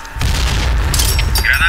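A grenade goes off in a shooter video game, a single loud deep boom that rolls on with low rumble, followed by sharper crackling debris and a high whistling ring near the end.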